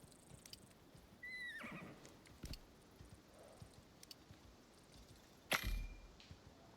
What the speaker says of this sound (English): Let's get away from those horse type things.